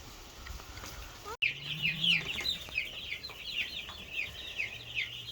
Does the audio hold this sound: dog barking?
no